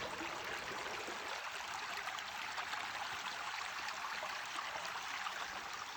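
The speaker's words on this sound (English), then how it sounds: "There is a little stream up here." Small stream flowing along a wooded footpath trail in Big Canoe, Georgia, giving a steady, soft hiss of running water with no breaks and no talking.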